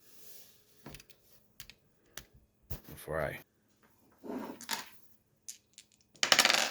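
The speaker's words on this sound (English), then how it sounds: "let's roll the dice first to get the next one going" Dice roll on a tabletop during a board game, giving several short sharp clattering knocks spread through the moment, with people talking in between.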